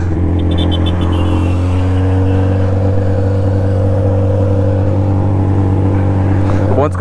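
A BMW 1200 motorcycle with a clean, polished exhaust runs loud and close, its steady engine drone holding at a constant pitch with a brief rise near the end, and faint voices in the background.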